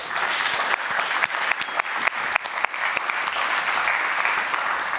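Audience applause at a Dutch panel talk on higher education, a full, even wash of clapping with a few sharper individual claps standing out, lasting the whole five seconds without talk.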